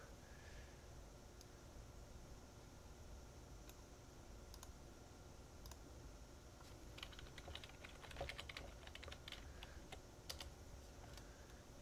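Someone types a folder name on a computer keyboard, producing soft, rapid key clicks in short bursts that thicken toward the end against a faint background hum.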